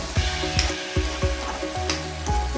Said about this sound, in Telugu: ఇప్పుడు చూద్దాం ముక్కలు ఎలా వేగుతున్నాయి